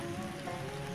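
Monsoon rain falls steadily on surfaces near a river, a dense continuous hiss of drops at even loudness with no talking.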